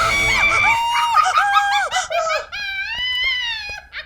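A woman lets out a series of loud, high-pitched shrieks and screams, close and alone, rising and wavering for several seconds.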